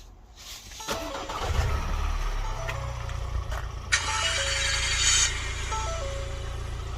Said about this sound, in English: Let's just remote start it.